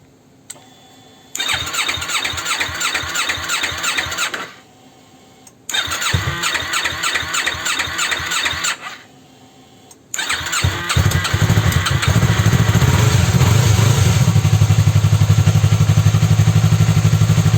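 A Yamaha R3 motorcycle engine cranks twice with a fast whirring starter, each try stopping, then on the third attempt fires and settles into a steady, loud idle close to the mic.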